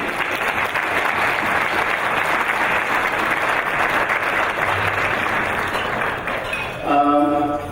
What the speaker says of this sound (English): can we have a round of applause for Shahidullah, please?